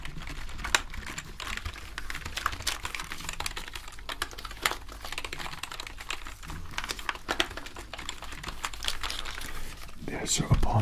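Keys on a dusty, dirty computer keyboard are pressed and tested during a deep clean, giving a steady run of close, clicky taps with crinkly rustles and a louder burst near the end.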